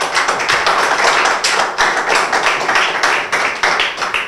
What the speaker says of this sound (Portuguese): Aplausos para o Marcelo.